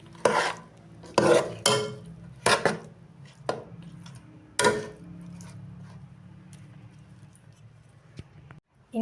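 Garam masala spices being mixed into raw chicken for chicken pulao biryani: several sharp, close knocks and scrapes of a spoon against a vessel in the first five seconds, then quiet, with no talking.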